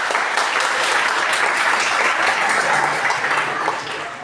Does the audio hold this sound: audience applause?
yes